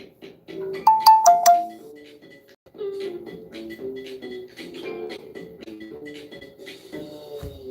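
A phone ringtone chimes loudly in a short burst of bright melodic tones near the start, then quieter tonal notes continue alone without speech.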